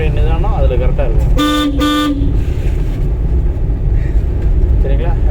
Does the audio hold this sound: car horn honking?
yes